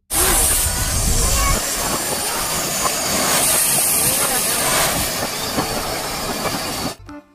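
A Thomas toy train gives off a loud, steady steam-like hiss with rail clatter, lasting about seven seconds before cutting off abruptly.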